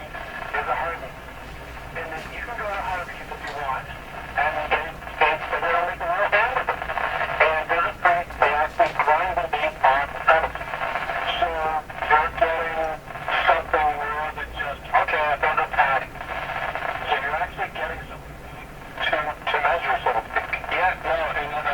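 A Stromberg Carlson Model 515 radio plays a station on a workbench, its loudspeaker giving out continuous broadcast sound with varying, voice-like content at moderate loudness.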